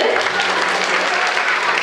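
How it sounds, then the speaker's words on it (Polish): Audience at a movement-theatre children's show applauds a performer, dense continuous clapping throughout, close and loud. "Brawa do Kurkawy"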